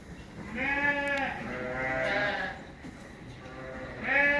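Lambs on a farm bleat in several drawn-out cries that come fairly close and overlap, with faint talk underneath.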